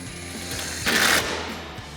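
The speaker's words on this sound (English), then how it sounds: "Tighten that down with our 10mm socket." A 10mm socket wrench ratchets a headlight mounting screw tight during a Morimoto XB Hybrid LED headlight install on a RAM 2500, giving a rapid clicking burst that swells briefly in the middle of a steady shop hum.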